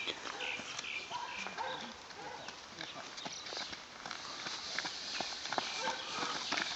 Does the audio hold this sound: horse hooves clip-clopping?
yes